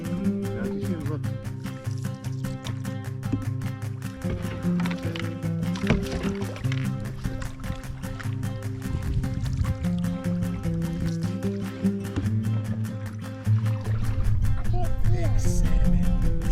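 A canoe on a remote Yukon river or lake, with paddle strokes and splashes against the hull under a continuous rush of water, and faint voices now and then.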